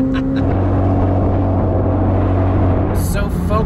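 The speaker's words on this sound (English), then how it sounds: "you can hear so much of what's going on in that engine" A McLaren 765LT's engine, turbocharger and wastegate produce a loud, steady, close-up drone with a low rumbling hum that holds throughout, and brief high whistling sounds near the end.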